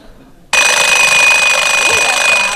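A morning alarm clock bursts on suddenly after a quiet moment and keeps buzzing at a loud, steady, piercing pitch close by.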